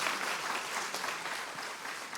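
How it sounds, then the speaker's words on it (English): Church congregation clapping in applause at a worship service, a sustained, fairly even round of many hands with scattered sharper claps, moderately loud and without talking. "So let's just give another round of applause for God and those people that have done that"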